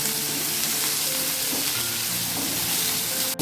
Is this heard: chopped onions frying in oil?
yes